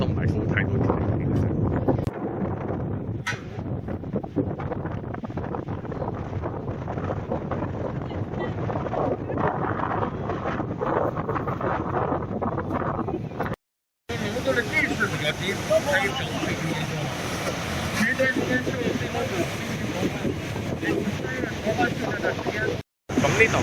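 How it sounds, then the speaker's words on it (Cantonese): Strong sandy wind buffeting the microphone at Hukou waterfall on the Yellow River, a loud continuous roaring rumble with brief dropouts, while a person talks over it. "依家戴咗口罩係因為周圍太大風"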